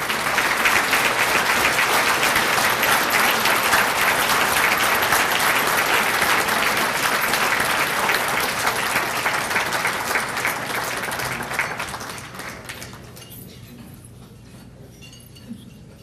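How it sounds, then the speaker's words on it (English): A large audience at a football hall of fame ceremony applauds an award recipient with loud, sustained clapping and faint clinking glass, fading out toward the end. "give him a special round of applause"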